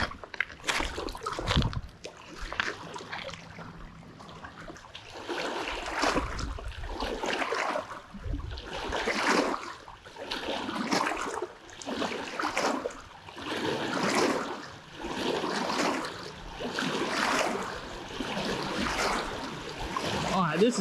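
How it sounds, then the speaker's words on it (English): Waves on a main lake lapping and splashing in a steady rolling rhythm, each surge swelling and fading every second or two, close by and moderately loud, with no talking. "this is definitely waves"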